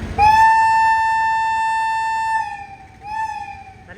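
A locomotive horn on the Tambaram–Mangaluru Express blares loud and close in one long sustained blast near Nileshwaram station, then dips and sounds again more briefly.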